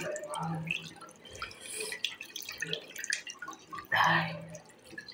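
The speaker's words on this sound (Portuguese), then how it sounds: "Isso que é bom lavar com água corrente, né?" Tap water runs and splashes in a bathroom sink during face washing, a soft uneven trickle with intermittent drips and a louder gush near the end, with faint voice sounds in the background.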